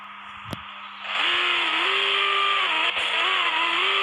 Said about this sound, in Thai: พอผมเหยียบคันเร่ง ทุกคนต้องตะลึง